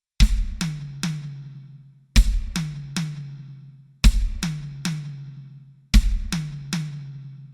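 Drum kit triplet fill: a bass drum struck with the left hand followed by two right-hand hits on the high tom, the three-note group repeated four times with ringing decay, close and clean.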